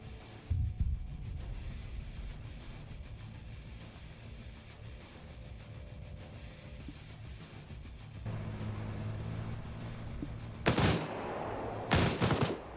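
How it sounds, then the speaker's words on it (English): A ZU-23 anti-aircraft gun fires at long range in a military video game: two short, sharp bursts of rapid shots near the end, over a quiet ambient background with faint beeps. "ZU-23 is now shooting super long range"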